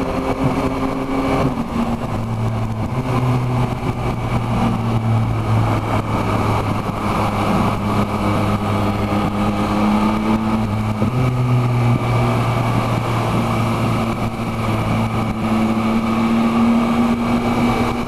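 A Yamaha MT-09 motorcycle with its stock exhaust, a steady loud engine rumble close by that holds a low hum with slight rises in pitch throughout, with no talk.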